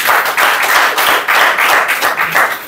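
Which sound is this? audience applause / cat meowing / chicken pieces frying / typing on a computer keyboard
audience applause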